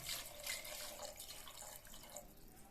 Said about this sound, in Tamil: இப்போ தேவையான தண்ணியை சேர்த்துக்கலாம்.